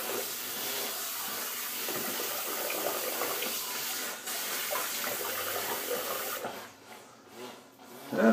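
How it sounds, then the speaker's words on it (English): Tap water runs steadily while a razor is rinsed at a sink during a shave, a close, continuous splashing stream that changes near the end as the flow is interrupted. "I'm going to go ahead and rinse off real fast"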